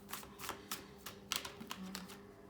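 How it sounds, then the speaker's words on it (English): Tarot cards are shuffled close by in a quick series of soft riffling snaps and taps, with no talking. "I'm going to shuffle up and see if we can get what else out."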